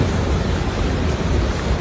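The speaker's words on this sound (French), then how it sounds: "Et il continue à pleuvoir." Heavy rain pours during a flood in Kinshasa, a loud steady roar of dense drops with a low rumbling undertone and no talk.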